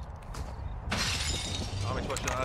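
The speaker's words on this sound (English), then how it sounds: "Broke through the back glass." Glass shattering in the online shooter Call of Duty Gunfight as a back window is broken through, a sudden loud crash with scattering shards, with a player talking before it.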